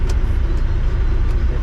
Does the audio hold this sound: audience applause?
no